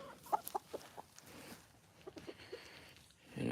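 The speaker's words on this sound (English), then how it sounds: "Good chickens." Chickens clucking softly in a backyard flock, a handful of short, scattered clucks at close range over a quiet background, with faint bits of movement.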